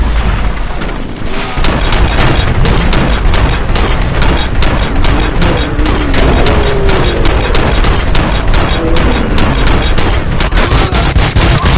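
Dense, continuous automatic gunfire and booming impacts in the shooter game RoboCop: Rogue City, a loud relentless rattle of rapid shots layered over heavy rumbling blasts for the whole stretch, with no clear speech.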